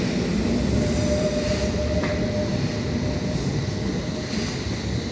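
A London Underground District Line train rumbles steadily into Platform 2 at Bank/Monument station, a continuous loud roar with a high metallic whine early on and brief clanks.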